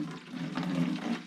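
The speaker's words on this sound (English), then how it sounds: "we're just going to slowly fill the system up here" Distilled water is poured slowly into the cooling system of a 200k-mile Saab 9-5 Aero with a new radiator, making a brief, steady splashing trickle up close.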